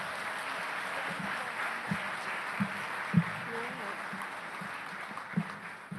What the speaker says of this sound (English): Another round of applause for our bachelor degree graduates.